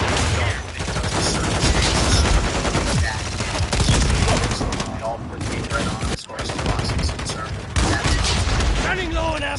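Dense, loud gunfire from Call of Duty Modern Warfare 3 on the Shipment map, with rapid automatic bursts and heavy shots rattling almost nonstop while a player talks over the chaos.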